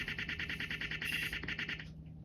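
A Vtech Kidistar DJ mixer toy plays its turntable sample in reverse: a steady, pulsing electronic loop with a bright warbling tone, repeating rapidly for about two seconds and then cutting off abruptly.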